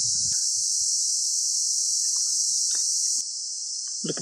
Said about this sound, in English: Listen to the song of the forest, sung by thousands and thousands of cicadas.